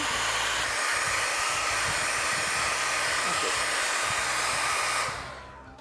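A hair dryer blows steadily on stencil paint during a cactus garden craft project, a loud close whooshing roar that holds for about five seconds and then cuts off.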